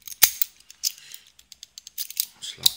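Small metallic clicks and rattles from an SPP Eurospec MP10 six-pin dimple padlock being locked: a quick run of sharp, close ticks and snaps, with a few louder clacks, heard alone.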